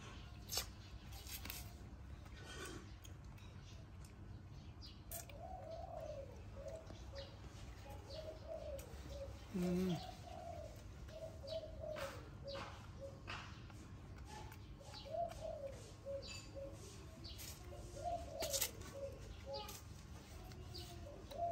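Birds coo and chirp faintly outdoors, probably pigeons or doves, heard as scattered soft calls against steady background noise while people talk throughout.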